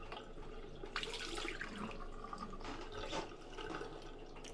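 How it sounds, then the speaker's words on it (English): Water runs and splashes steadily from a hotel room tap nearby, a continuous hissing flow with a few louder spatters and surges along the way. "Good flowing water, getting my camera wet"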